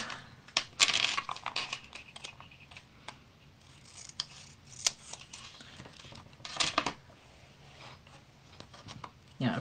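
Scissors snip off a piece of paper, close, crisp cuts scattered among quiet paper rustles and handling sounds at low level.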